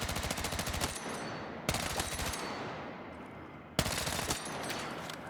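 A machine gun in Battlefield 6 fires in three long, rapid bursts of close, loud automatic fire, separated by brief gaps with a fading echoing tail.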